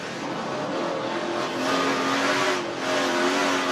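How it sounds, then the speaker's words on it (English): A race truck on the Eldora dirt track revs and lifts on the throttle, the engine note rising and falling in waves as it works through the corner, loud and close as heard on board. "Listen to him work that throttle."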